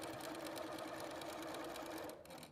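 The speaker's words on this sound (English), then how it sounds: "So I'm going to sew these 2 on." Sewing machine running steadily as it stitches quilt triangle patches, a close, continuous whirring hum that stops just before the end.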